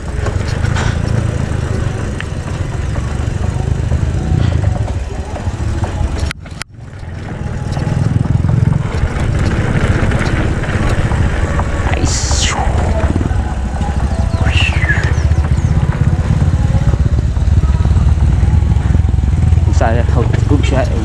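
A motorcycle engine drones loudly and close, with revving and passing vehicle noise, while people talk over it, on a downhill road to Igpaho.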